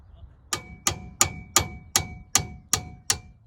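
A hammer strikes a tool box jack eight times to knock a bolt off its shaft, sharp metallic clangs at a steady, unhurried pace, each ringing briefly before the next blow.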